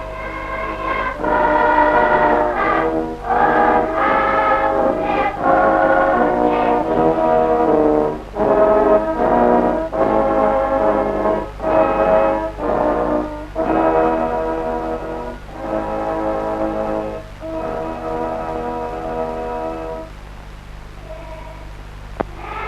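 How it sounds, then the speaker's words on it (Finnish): A choir of several hundred schoolchildren from the Soutjärvi primary school sings together with a brass band at a Veps folk festival. The music comes in loud phrases with short pauses, on an old, noisy recording. "Sen esittää Soutjärven kansakoululasten monisatapäinen kuoro torviorkesterin kera."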